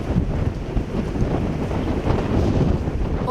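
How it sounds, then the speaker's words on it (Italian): Strong wind gusts blow hard through Venice at Piazzale Roma during a 173 cm high tide, a loud continuous rushing roar buffeting the microphone with no voices. "Il vento ci sta davvero spostando, è un vento fortissimo"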